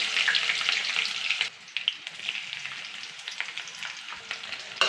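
Garlic and onion frying in a pan for pumpkin and elephant foot yam dishes, a steady close sizzle with a brief dip midway and scattered crackles, no voices.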